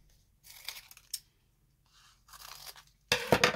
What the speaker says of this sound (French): je vais peut-être couper l'excédent